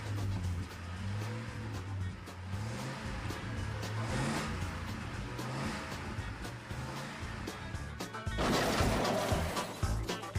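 Monster truck engine roaring at sustained high revs as the truck attempts a backflip, loud and continuous, ending in a harsh crashing burst of noise.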